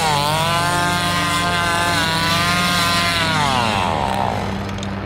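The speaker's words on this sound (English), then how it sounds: "And we get another pretty cool chainsaw dance." A chainsaw revs loud and steady in the Texas Chainsaw Massacre video game, its whining engine pitch sweeping up and down in a rhythmic dance before easing slightly at the end.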